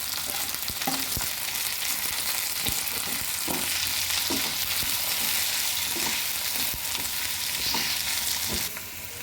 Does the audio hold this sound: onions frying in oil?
yes